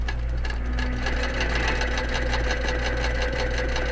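QBOT quilting machine stitching an appliqué, a fast steady needle chatter with a rhythmic mechanical pulse and low motor hum, close and continuous, no voices.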